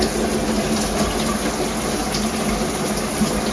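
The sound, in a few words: shower head spraying water at different settings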